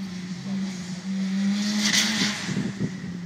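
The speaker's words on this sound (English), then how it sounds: "2-litre turbo Sierra Cosworth of Richard Brant" A 2-litre turbo Ford Sierra Cosworth three-door race car accelerates hard at a sprint event, its loud engine drone rising and wavering with tyre noise, steady and close throughout.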